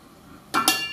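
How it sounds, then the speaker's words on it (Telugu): A ladle knocks and scrapes against a metal pot while stirring colostrum milk, two quick close metallic clinks after a quiet moment, with a faint third at the end. "జున్నుపాలని మళ్ళీ ఒకసారి గరిటతో కలిపేసుకొని"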